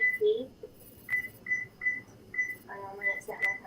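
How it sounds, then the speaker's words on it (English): A kitchen timer on a baking oven gives a string of short, high, evenly spaced beeps as it is set, about eight quick tones over a few seconds, fairly close over low room noise and a faint voice. "I'm going to set my timer for 15 minutes."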